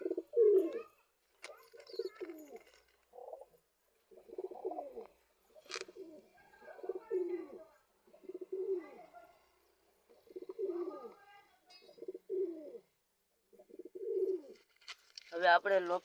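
Pigeons coo repeatedly at close range in short, throaty bursts separated by brief pauses, with a quick higher chirp near the end.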